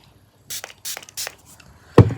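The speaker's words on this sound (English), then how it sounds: "I went in with my setting spray again" Makeup setting spray misted in a few short hissing bursts, followed by a sharper knock close by; no talking.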